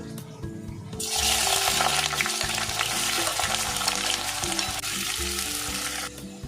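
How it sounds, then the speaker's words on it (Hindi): Chopped onions hit hot oil in a pan for egg biryani, bursting into a loud, dense, steady sizzle after a second of quiet and frying on until it drops away near the end. "तेल अच्छे से गर्म हो चुका है, अब हम इसमें प्याज ऐड कर देंगे।"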